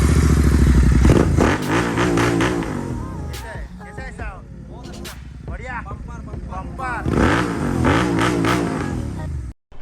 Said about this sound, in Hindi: साउंड सुनना है बाइक का?